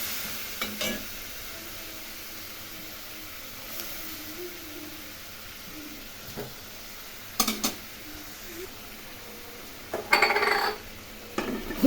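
Green beans cooking with a little water in a pan for a cauliflower curry, giving a low steady sizzle and bubble with a few louder clinks and scrapes of stirring, no talking.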